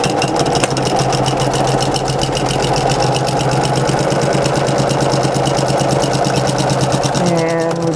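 Sewing machine stitching a baby blanket seam, a loud fast even motor whir with rapid needle pulses close by, changing pitch briefly near the end as it back stitches.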